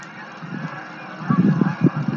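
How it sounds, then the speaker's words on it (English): A flock of geese honks repeatedly in the distance at a winter campsite, scattered calls growing busier toward the end. "You hear all those geese?"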